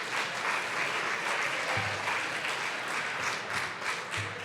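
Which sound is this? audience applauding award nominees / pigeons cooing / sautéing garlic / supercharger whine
audience applauding award nominees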